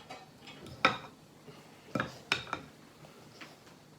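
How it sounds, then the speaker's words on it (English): A whisk knocks against a bowl while beating cake batter, producing a few sharp, irregular metallic clicks and taps close by, separated by quiet stretches, with no talking. "I'm going to keep whisking for now"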